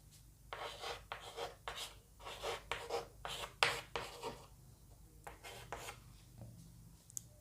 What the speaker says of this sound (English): I am writing the options.